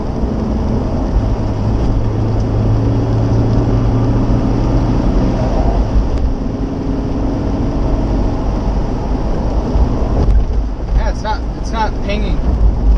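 First-generation Ford Explorer with a 4.6 engine floored in fifth gear, pinging at operating temperature, steady loud engine drone and road roar from inside the cabin throughout, with faint rattling toward the end.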